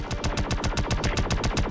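Rapid automatic weapon fire from a Star Citizen fleet battle rattles in an even, fast rhythm of about a dozen loud, close shots.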